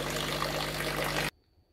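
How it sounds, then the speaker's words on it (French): Hot water gushes and spatters out of a DeLonghi coffee machine during descaling, a steady loud pour that stops abruptly, leaving near silence. "Il faut faire attention parce que l'eau il sort très chaude. Vous voyez, ça saute un peu partout."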